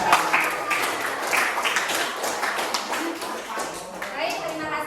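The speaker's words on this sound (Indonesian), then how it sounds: "Beri tepuk tangan" Brief classroom applause for a winning student group, clapping mixed with children's chatter and voices over it, fairly close and lively.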